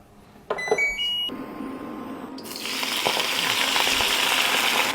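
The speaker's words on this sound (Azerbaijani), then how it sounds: "İndi spanağı qızardaq" Spinach hitting a hot frying pan: a few electronic appliance beeps, then a loud, steady, close sizzle that swells and holds to the end.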